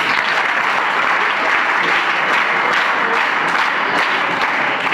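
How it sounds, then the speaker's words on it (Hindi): A class of children at a lesson bursts into loud, close applause, a dense burst of many small hands clapping that holds for several seconds without speech. "एक बार फिर ताली।"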